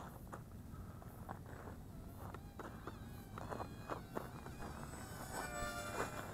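Z51 Predator RC drone modelled on the MQ-9 Reaper flying low, its steady high-pitched propeller whine buzzing continuously and growing slightly louder as throttle increases, with no talk over it.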